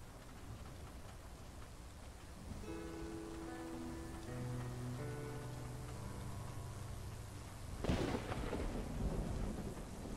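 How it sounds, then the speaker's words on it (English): Steady heavy rain falling on a surface, with a deep rumble of thunder swelling near the end, loud and enveloping, while a soft melodic tone drifts faintly underneath. "I'll be honest, I like thunderstorms actually."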